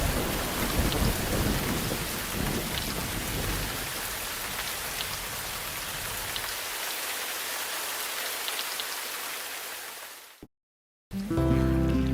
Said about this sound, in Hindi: लेकिन इस बार की बारिश खास है